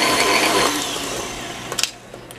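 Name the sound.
electric blender mixing carrot cake batter with eggs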